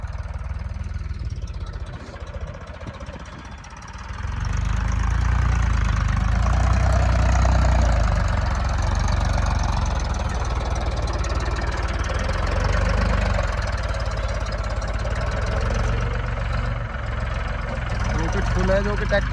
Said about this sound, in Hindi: तो ट्रैक्टर के एक बार परफॉर्मेंस देखते हैं, जो कि दलदल है मिट्टी में है।